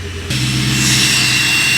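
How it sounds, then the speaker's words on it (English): A Chevy engine on a cold start jumps to a loud, steady high idle after a brief quieter moment, a close, continuous roar. "I think high idle kicked in because holy crap is that loud now."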